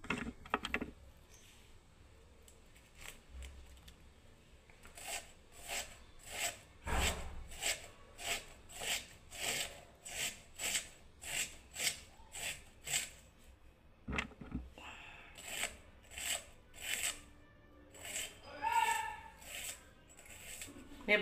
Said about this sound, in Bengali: পেঁয়াজগুলো আমি কেটে নিচ্ছি